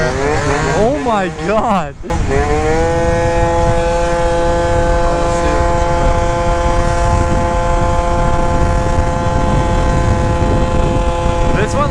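A 70cc Yamaha Zuma stunt scooter engine whines at high speed, its pitch swinging rapidly at first and then holding a steady, loud high-revving drone with wind noise; a voice exclaims briefly near the start.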